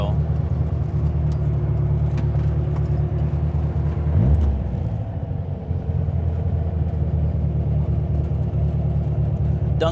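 A 1956 oval-window VW Beetle cruising along, its air-cooled engine giving a steady low rumble and drone heard from inside the car, briefly easing and shifting pitch midway, with occasional speech over it.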